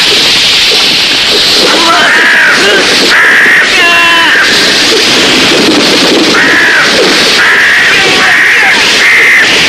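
Harsh, repeated eagle screeches ring out in several bursts over a noisy, splashing background, with a voice speaking at times.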